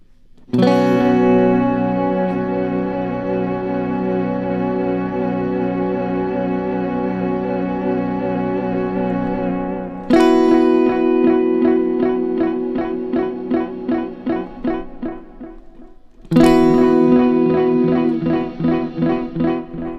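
Electric guitar run through a Kemper Profiler with a freeze effect layered over delay and reverb: a sustained, shimmering chord drone swells and holds, then two further struck chords bloom and repeat in pulsing delay echoes, loud and without speech.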